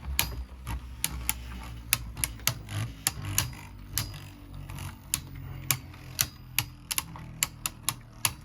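Beyblade Burst tops spin and collide in a Chaos Core stadium, producing a rapid, irregular run of sharp plastic clicks and clacks over a low spinning whir.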